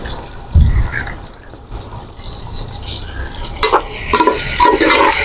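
Onions and okra frying in a large pot while being stirred, a soft sizzle beneath intermittent scraping and clanking of a spoon against metal, louder toward the end.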